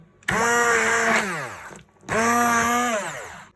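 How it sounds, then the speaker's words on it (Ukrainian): Two bursts of a whirring immersion blender motor pureeing zucchini soup, each starting loud and winding down in pitch, separated by a short pause, close up. "Знімаємо кастрюлю з вогню та перемилюємо блендером."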